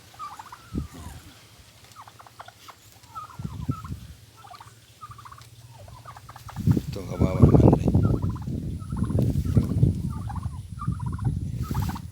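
Turkeys gobble on a farm around a house. Scattered calls come first, then a loud, dense burst of overlapping gobbling from several birds close by.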